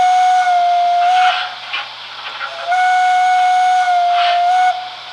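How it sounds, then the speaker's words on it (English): Loud steam whistle from a Märklin model steam locomotive's sound system, two sustained steady blasts separated by a short pause, with a breathy hiss of steam around each tone. "really good horn on it, or whistle on that one."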